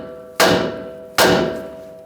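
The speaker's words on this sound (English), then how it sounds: "If not, just use a hammer." Two sharp hammer blows about a second apart strike a ball joint stud on the steering knuckle of a 2011–2018 Ram 1500, each a loud metallic clang that rings and fades, heard up close with no talking.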